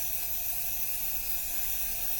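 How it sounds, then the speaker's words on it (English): Steam is let off in a continuous, broad hiss that stays loud and unbroken from start to finish, heard alone with no talk. "Just let off the rest of the steam."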